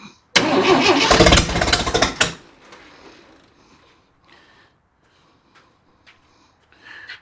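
A used Jeep 4.2 engine cranks loudly on its starter for about two seconds without catching, then falls quiet apart from faint scattered clicks and shop noises.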